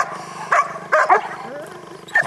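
A Dutch Shepherd barks in short sharp bursts during guard and protection training, several loud barks spaced irregularly, with a handler speaking in between.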